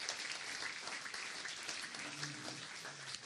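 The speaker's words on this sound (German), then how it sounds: "wenn Sie jetzt die Referenten nochmal mit einem warmen Applaus begrüßen" Conference audience at the Münchner Wirtschaftstag 2017 claps to welcome the speakers, a continuous patter of fairly quiet applause heard from within the hall.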